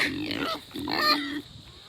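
Pigs in a pen grunt close by, two rough bursts of low snorting grunts separated by a short pause, with no speech.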